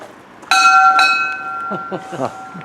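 A kitchen bell fitted to call someone in for tea rings out in two bright, sharp strikes with long shimmering tails, followed by a person speaking over the fading ring.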